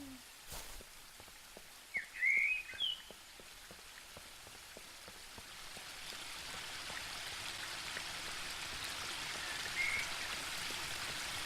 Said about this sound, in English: The waterfall and I have been neighbours for so long that I don't really hear